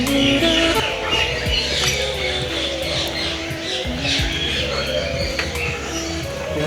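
A cockatiel, a macaw and other parrots in a garden aviary squawk and chirp loudly and repeatedly, harsh calls overlapping in a busy, close chorus throughout.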